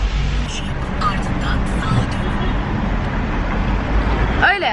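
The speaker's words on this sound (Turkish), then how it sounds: "Ben araba kullanacağım." A car drives along a road with a steady, broad engine and tyre rumble heard from inside, while people talk over it throughout; a brief squeaky sound comes near the end.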